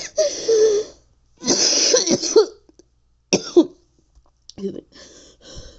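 A person coughing loudly and harshly, with throat-clearing and gagging, in three or four separate bursts with silent gaps between them, close to the microphone and heard alone.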